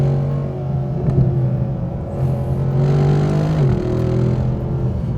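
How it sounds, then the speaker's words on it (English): A Mercedes SLS GT sports car's exhaust burbles and rumbles deeply at low revs, with the engine note rising and falling slightly, heard close and loud from an exhaust-mounted mic. "I'm just glad we brought the exhaust mic, because it sounds ridiculous."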